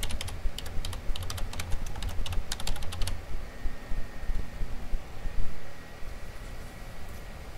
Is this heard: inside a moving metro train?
no